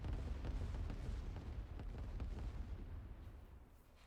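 Artillery pieces fire in a video game, a dense run of overlapping booms and rumbling blasts that stay loud and continuous, easing slightly toward the end.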